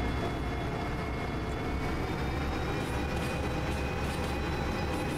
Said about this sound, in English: So all I have to do now is to put this train on the right siding.